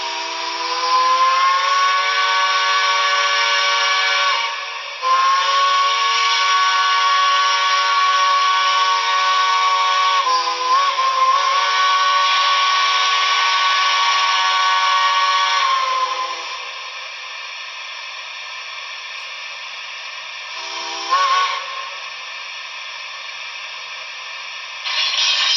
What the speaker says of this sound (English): So one of the whistles, let's try that one.